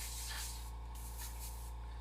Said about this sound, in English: I'm going to do my spray outs here